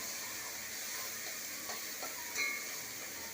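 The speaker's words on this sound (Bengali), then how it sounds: "চিংড়ি মাছগুলো এপিট ওপিট করে ভেজে নেব" Shrimp frying in a pan and being turned over, a steady faint sizzle and hiss with a couple of soft clinks near the end, no voices.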